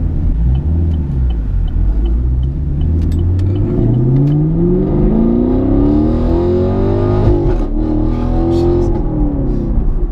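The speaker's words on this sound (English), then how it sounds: "So I'm going to drive us home now" A car drives along a road, a loud close engine rumble rising and falling as it accelerates through gears, with steady road noise throughout.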